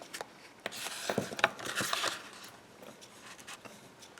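Paper being folded and pressed into creases, a few soft scraping rubs and sharp crinkly strokes close up, spaced irregularly with quiet gaps between them.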